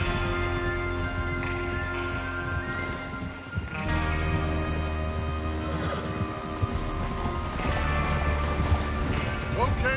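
Horse hooves clip-clop at a run in Red Dead Redemption 2, a steady rhythmic beat under background game music and ambient noise, with voices talking over it.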